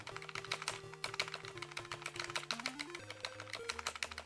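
Computer keyboard keys tapped in a fast, steady rhythm while playing Combat School on a ZX Spectrum, the clicks running under beeping chiptune game music throughout.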